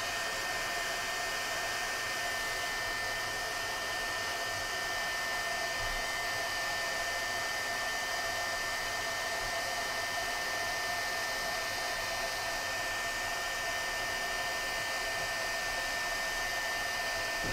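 A hot air tool blows steadily while heating an RP2040 circuit board for reflow soldering, producing a constant, loud, close hiss and hum with no voices.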